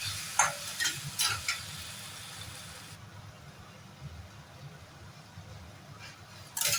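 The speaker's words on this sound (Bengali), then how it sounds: "মশলাটা বেশ খানিকক্ষণ নাড়াচাড়া করতে হবে যতক্ষণ না তেল" Spice paste for a Bengali-style rohu fish cumin curry is stirred in hot oil with a spoon, giving a soft scraping, sizzling texture with a few sharper clinks early on, then settling to a quiet, low simmer.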